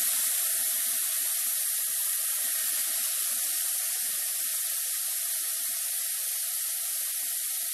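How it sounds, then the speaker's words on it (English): Pork chops sizzling in bacon grease in a skillet, a constant bright hiss of frying with faint crackles, steady and close throughout. "we got a lot of white noise from the skillet right now."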